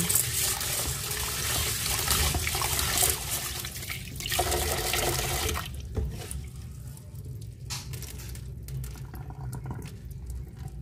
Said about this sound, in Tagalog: Ito yung munggo. Hugasan muna natin.